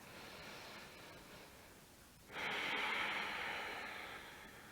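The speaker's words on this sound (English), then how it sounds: "So if you ever hear ujjayi breathing, that's what they mean." An ujjayi yoga exhale through the nose with a constricted throat gives a long, steady, hissing breath that starts abruptly and fades slowly, close to the microphone after a quieter breathy stretch.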